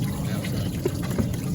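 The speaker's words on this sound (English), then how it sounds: "Now this water is going into the engine." Water from a hose pours and trickles into a Chevy S10 engine block during a heater core flush, a steady close gurgling flow with faint splashes.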